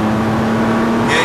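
A Nissan car engine accelerating on a race track, holding a steady, loud drone with a constant tone throughout the short stretch, with a faint brighter rise near the end.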